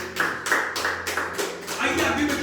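A church congregation applauding together, a dense steady clatter of many hands that swells in rhythmic waves and carries on over a moderately loud room.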